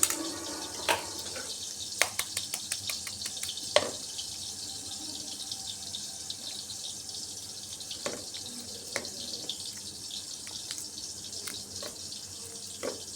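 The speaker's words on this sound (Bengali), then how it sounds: "কড়াইয়ের মধ্যে আলু ভাজা হচ্ছে আলু ভাজার শব্দ শোনা যাচ্ছে" Potatoes frying in a kadai for an egg and potato curry give a steady, bright sizzle, with scattered sharp crackles and pops that cluster early and return now and then.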